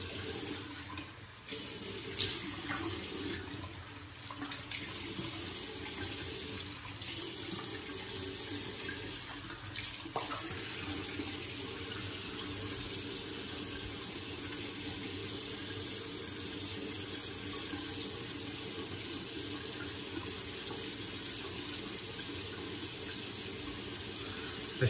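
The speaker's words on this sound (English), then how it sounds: "Let me rinse the face and the leather up again." Tap water runs steadily from a faucet into a sink while a face and a leather-handled shaving brush are rinsed after a wet shave, a continuous close splashing stream with a few brief interruptions near the start.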